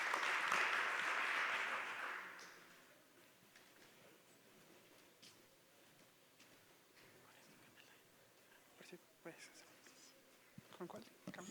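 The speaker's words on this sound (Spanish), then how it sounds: "Un aplauso para Edgar en esta última conferencia." An audience applauds at the close of a conference talk at a food-industry expo, a dense burst of clapping for the first two seconds that then fades into quiet room noise, with a few scattered sounds near the end.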